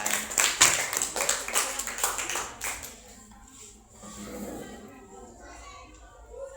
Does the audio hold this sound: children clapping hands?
yes